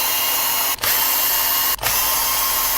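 A pocket drill with a 2.5 mm hex driver runs steadily and loudly while backing out screws from an Arrma Kraton EXB RC truck, with two brief drops where the motor pauses.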